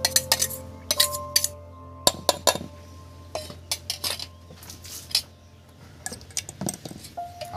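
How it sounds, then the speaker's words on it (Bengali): Semolina and sour yogurt mixed in a bowl with a metal spoon, a close run of irregular clinks and scrapes against the bowl, some sharp and ringing, with brief pauses between. "সুজি আর টক দই সব মিক্স করে দিচ্ছি।"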